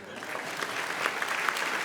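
Audience applause at the Brownlow Medal ceremony rises as a dense wash of clapping from a large crowd, continuous and moderately loud throughout the short stretch.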